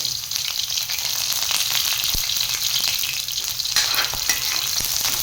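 Sliced onions fry in a pan with browned garlic for a ginisang monggo mung bean stew, a close, steady hiss and sizzle with occasional stirring scrapes and no voices.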